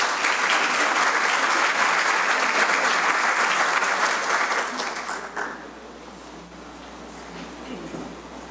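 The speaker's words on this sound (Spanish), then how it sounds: "Un aplauso al Grupo 1." Audience applause for a group at a plenary session, a dense rain-like wash of clapping that fades out after about five seconds, leaving quiet room noise with a few stray claps.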